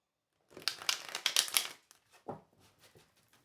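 A quick run of papery riffling and flicking as tarot cards are shuffled, followed by a few softer, scattered taps and slides.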